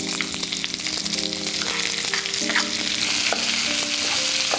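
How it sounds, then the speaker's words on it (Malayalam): Chopped onion fries loudly in hot oil with fennel and a bay leaf for dum aloo, a dense close sizzle with stirring throughout, faint tonal background music underneath, and no voices. "ഇതിനകത്തോട്ട് ഒരു സവാള വലുത് അരിഞ്ഞു വെച്ചത്"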